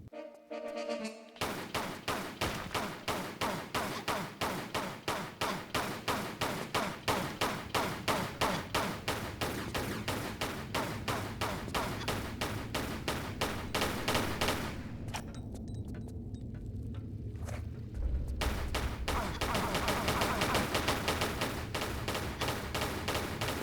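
Lara Croft's pistols fire in Tomb Raider 4 in a fast, regular rhythm of sharp shots, dozens in a row, pausing briefly mid-way before resuming at steady volume.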